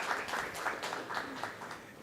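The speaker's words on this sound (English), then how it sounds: "the panel deserves one other round of applause" Brief, fairly faint applause from a crowd, a dense patter of clapping lasting a couple of seconds.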